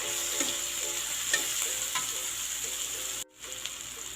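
Chicken with tomato fries in a pan, a dense steady sizzle broken by a few light scrapes of stirring and a short drop-out near the end.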